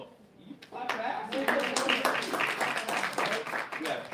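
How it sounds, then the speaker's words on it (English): An audience in a live class breaks into a burst of dense, lively applause, many hands clapping for several seconds at close range. "You clap that."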